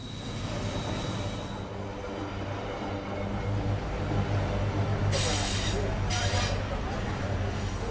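A heavy freight train laden with ore rumbles steadily past, close and loud, with brief high metallic squeals from the wheels partway through.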